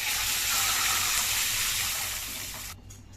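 Water pours into a hot pan holding oil, cumin, mustard seeds, curry leaves and turmeric, making a loud hissing rush that holds steady, then fades and cuts off sharply near the end.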